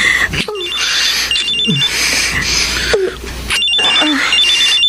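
Cellphone ringing with a repeating electronic trill pattern, loud and near, playing under dramatic music and voices.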